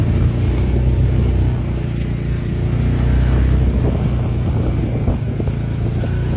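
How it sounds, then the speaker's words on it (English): A UTV engine drones steadily throughout, a continuous rumbling motor at close range with slight rises in pitch, alone without talk. "of course, this UTV can go fast enough"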